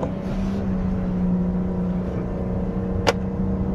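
A BMW X6 accelerates hard under heavy throttle, a steady engine drone holding loud and close from inside the cabin for several seconds, with one brief sharp click near the end.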